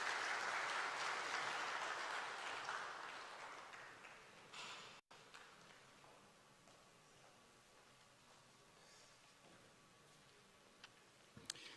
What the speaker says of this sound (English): With a round of applause, ladies and gentlemen.